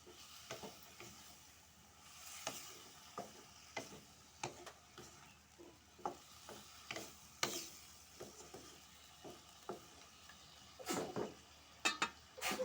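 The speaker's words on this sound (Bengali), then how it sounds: "ভালোভাবে কষিয়ে নিব।" Dried fish curry sautéing in a pan, with a faint, low sizzle and repeated scraping, tapping strokes of a spoon against the metal as it is stirred over a long stretch.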